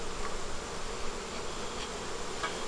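Honey bees hum inside an open hive during an autumn inspection, a dense, steady buzz filling the whole moment with no voices.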